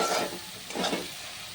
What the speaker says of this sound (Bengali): আর 2 মিনিট মতো আমি আবারও ভালো করে কষিয়ে নেব।